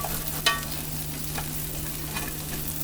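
Whole wheat pancakes frying in a well-greased skillet, giving a steady, even sizzle with one brief scraping clink near the start and no talking.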